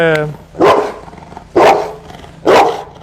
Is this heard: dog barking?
yes